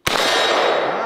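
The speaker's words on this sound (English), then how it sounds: "now fire when you're ready, once you line up your sights" A single sharp metallic clang as a .22LR round from an AK-47 trainer strikes a steel target, loud and close with a ringing decay that lingers for about a second.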